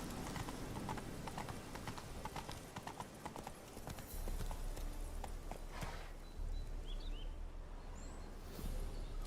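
Geralt's horse Roach gallops in The Witcher 3: Hearts of Stone, a steady, close run of hoofbeats that carries on throughout, with a faint snort near the end.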